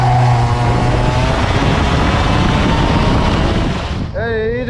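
A go-kart engine buzzes at high revs on a track, loud and close with heavy wind rush, then drops away to a falling whine as it slows near the end.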